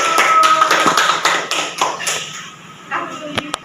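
A classroom of students gives a round of applause during a teaching-practice session in Indonesia, a dense burst of clapping that fades after about three seconds, followed by a few scattered claps and light chatter.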